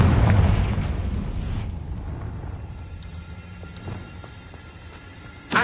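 A heavy fire-blast spell explosion from the Hogwarts Legacy video game bursts loudly at the start, then rumbles and decays over several seconds, with a fresh sharp burst right at the end.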